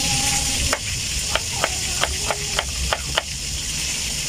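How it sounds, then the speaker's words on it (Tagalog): Tilapia frying in a pan gives a loud, dense, continuous sizzle, with a series of light taps and scrapes from a utensil every half second or so, and nobody talking. "Pinirito ko muna tapos kaya ako igigisa."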